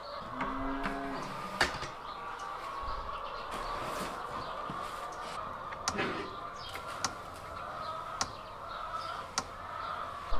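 Farm cattle low and moo at a distance across a field, a steady murmur of the herd with occasional short knocks and sharp clicks, no talking.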